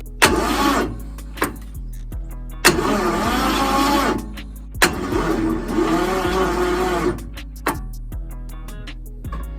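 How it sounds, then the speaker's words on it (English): A car engine prepared for a burnout competition cranks over in three long bursts after WD-40 has been sprayed into the cylinders, its starter whirring loud and close, separated by short pauses and sharp clicks. "I'm gonna see if it'll crank over a little easier now"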